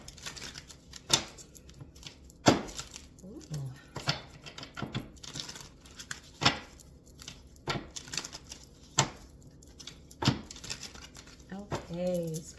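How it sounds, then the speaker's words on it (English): Cards from a tarot deck being shuffled, a run of sharp riffling snaps and soft slides spaced irregularly, fairly quiet and close, with brief murmured speech near the end. "So I'm going to give the deck a shuffle."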